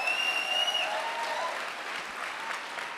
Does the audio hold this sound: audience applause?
yes